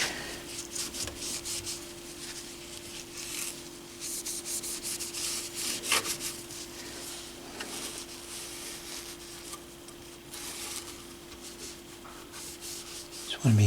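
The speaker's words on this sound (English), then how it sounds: "get rid of some of the dust and some of the grime off of those two windows." Dust and grime being wiped off the dial glass windows of a McIntosh MAC1900 stereo receiver with a Clorox wipe, giving a steady soft close rubbing and squeaking against glass over a faint constant hum, with no voices.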